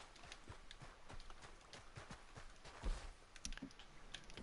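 Horse hooves clip-clop in Red Dead Redemption 2 Online as a horse called Artax is brought over near a fishing spot, a fairly quiet, steady trot of soft thuds with a couple of louder knocks partway through.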